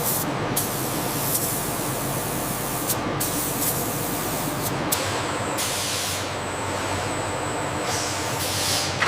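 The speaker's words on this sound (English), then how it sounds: "A protective sealant is added, safeguarding the colors and details while maintaining a natural bone appearance." Protective sealant sprayed onto painted model human skeleton bones in a factory, a series of steady hissing spray bursts separated by short pauses, close and fairly loud, with no talking.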